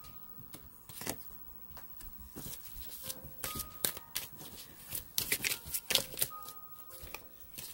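Tarot cards are shuffled and drawn by hand at close range. Papery riffles and slaps come in irregular bursts that thicken toward the end, with no voices.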